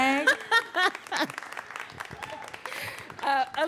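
An audience at a Boston poetry event breaks into a round of applause mixed with loud whoops and cheering voices, the clapping rising and falling in uneven bursts around the shouts.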